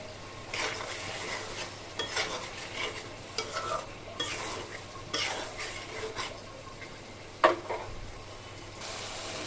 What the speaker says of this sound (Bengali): এখন আমি একটা টমেটো কাটা দিয়ে দেবো